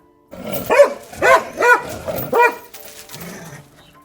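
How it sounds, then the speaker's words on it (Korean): A dog barks loudly at a thief in a children's story: four sharp, close barks in quick succession, then a softer, lower whimpering sound as it fades. "도둑을 발견한 가지가 크게 짖었어요."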